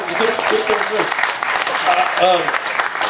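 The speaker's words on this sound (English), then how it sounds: "You can applaud." Audience applause at a panel discussion at Seattle Hempfest, clapping heard under voices as people talk over it, with a brief louder burst near the end.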